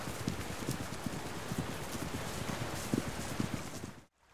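Hooves of a horse ridden by a woman in a white dress clip-clop in an even, steady rhythm over faint background hiss, moderately close, then stop abruptly.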